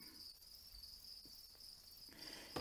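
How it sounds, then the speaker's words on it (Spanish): Acheta crickets in breeding boxes chirp in a steady, continuous high trill that fills the whole stretch, with a few soft handling bumps and a brief rustle near the end. "Y bueno, pues cajas con grillos."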